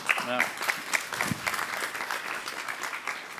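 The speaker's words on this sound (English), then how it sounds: "Clap your hands, Cheers, please" Moderate applause from the audience at a crypto summit, clapping at a middling level throughout with a brief voice at the start.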